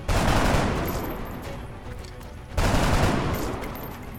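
Rapid volleys of gunfire from the turn-based tactics game XCOM: Art of War, two dense bursts of shots close together, loud and continuous, with no voices.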